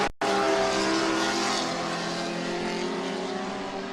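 Vintage race cars, among them a 1969 Ford Mustang, roar past loud and close at a road-racing event, a sustained engine howl that swells and then slowly fades after a brief gap at the start.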